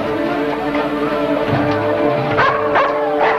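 A dog barks and yips loudly in quick repeated bursts, with whimpering tones under an old 1950s film soundtrack.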